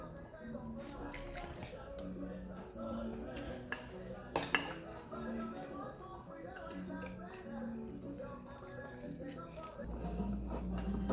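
Egg and milk batter gets whisked in a bowl, a run of quick rhythmic clinks and scrapes of utensil against dish, with a few sharper knocks and a voice talking over it.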